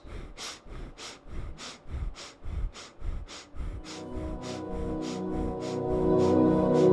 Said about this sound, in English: in this posture, you'll begin the breath of fire